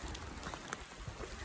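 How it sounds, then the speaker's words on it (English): Heavy, steady rain pours on a slushy Appalachian Trail path near Mount Collins shelter on a cold, roughly 40-degree day, making a dense, continuous hiss with no talking. "it is pouring down rain, as you can see, and a slushy mess at that"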